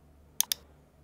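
Two quick, crisp mouse clicks in close succession against quiet room tone, made while setting up Thunderbird email on a computer.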